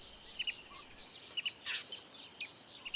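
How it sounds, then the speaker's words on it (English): Cicadas drone on the African savanna, a constant high, shrill buzz held steady and fairly near, with faint scattered bird chirps over it and no voices. "The only thing breaking the peace is the incessant screeching of cicadas"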